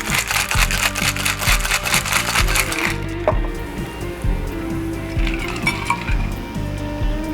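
A cocktail shaker full of ice is shaken hard for a French 75, giving rapid rhythmic rattling and clinking for about three seconds, followed by quieter clinks and settling.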